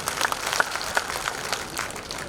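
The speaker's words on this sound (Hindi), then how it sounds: "इन सब के लिए भी ताली बजा दो जोरदार" Audience applause at a BJP political rally in Rajasthan, a fairly faint, steady patter of clapping hands with a few sharper claps standing out, continuous for a couple of seconds.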